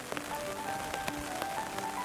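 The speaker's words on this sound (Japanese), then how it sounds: "やっぱり雨だからね。" Steady rain falls on a rose garden, a soft continuous patter with occasional sharper drops, even and moderately faint throughout without voices.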